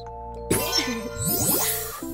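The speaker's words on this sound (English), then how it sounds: "Bells." Bright chiming bell tones and tinkling game effects from the puzzle game HuniePop ring out suddenly over a steady background tone, close and clear, with no talking.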